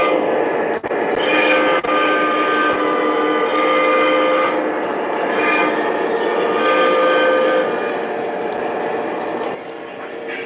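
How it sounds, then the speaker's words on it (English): A Lionel or MTH model train whistle blows in a long, steady, fairly quiet tone that holds for about nine seconds before dropping off, heard alone with small clicks at the start. "It's not a very loud whistle."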